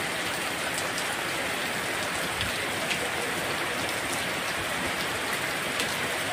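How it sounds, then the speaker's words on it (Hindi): Heavy rain pours down steadily, a dense, loud rush of drops drumming on surfaces with no break. "बारिश बहुत ज़्यादा हो रही थी इधर"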